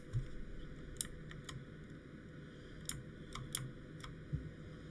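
Someone types on a computer keyboard with quiet, irregular clicking keystrokes in short bursts, close by against a faint background hum, with no talking.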